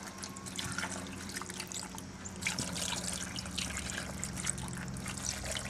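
Bottled water pours steadily into the pot of an electric Cuisinart pressure cooker, a continuous close splashing trickle that holds for several seconds without pause.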